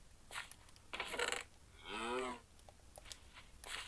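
Cows in the Minecraft game moo once in a drawn-out, harmonic call in the middle, with short clicking game sounds around it and no talk.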